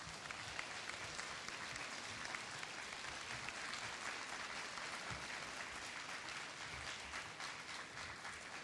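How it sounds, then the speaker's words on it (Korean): Audience at a human rights city forum opening ceremony applauding warmly to welcome a speaker, a dense, steady wash of clapping from many hands that carries on unbroken and evenly loud throughout, with no voices standing out. "다 같이 뜨거운 박수로 환영해 주시기 바랍니다."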